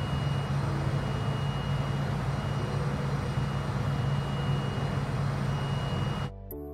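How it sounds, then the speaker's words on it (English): Steady, loud engine drone of a Fokker F28 jetliner in Microsoft Flight Simulator, a continuous low rumble with a whining hum that holds throughout before dropping away abruptly near the end. "He's a loud plane, the old Fokker."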